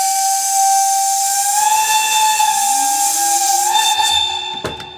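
An E 77 electric locomotive hauling a two-coach museum special sounds a loud, sustained whistle whose pitch steps upward partway through, ending with a few short rattles.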